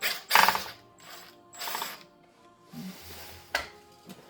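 A ratchet works out two Phillips screws holding the tail light on a Mercedes G-Wagon G55 W463, with several short bursts of rapid clicking close by and quiet pauses between them.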